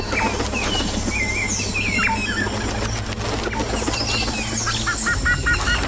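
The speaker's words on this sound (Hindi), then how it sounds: "वो एक कबूतर के पैर में काली परी को बुलाने का संदेशा बांधकर भेज देती है" A pigeon takes off with a quick flurry of flapping wings, set against chirping birds and a steady low background hum.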